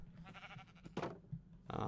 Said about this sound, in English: I can lead these sheep in here, and let's go ahead and breed them